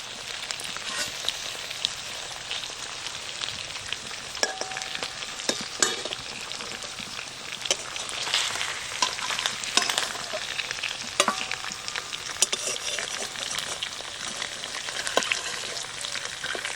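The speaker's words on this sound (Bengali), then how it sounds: "আর একটু সময় ঢেকে দিই তাহলে হয়ে যাবে আমার মাছ ভাজা" Pieces of a large river catfish (baghair) fry in a pan over a village cooking fire, a steady dense sizzle and crackle running throughout with occasional sharper pops and spatters, close and fairly loud.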